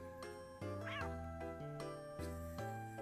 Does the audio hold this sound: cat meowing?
yes